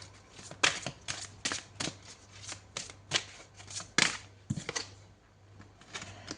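Tarot cards being shuffled and drawn, a guardian angel deck, in a quiet room; a steady series of close, crisp riffling and flicking bursts, some louder snaps, with no talking.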